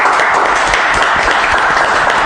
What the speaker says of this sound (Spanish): vamos a darle también un fuerte aplauso